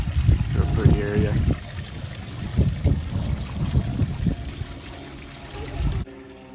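An outdoor water fountain at a mission in Solvang, California, splashes and trickles steadily up close, with voices murmuring faintly alongside.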